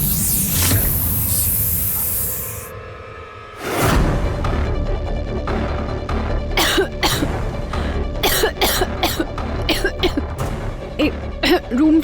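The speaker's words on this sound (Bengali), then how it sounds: "রুচিতার এই রুম ফ্রেশনারের স্মেলে অ্যালার্জি আছে" A room freshener sprays in a long, loud hiss lasting a few seconds, then stops abruptly and is followed by repeated coughing and throat clearing close by.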